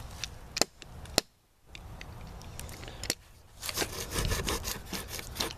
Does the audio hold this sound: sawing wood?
yes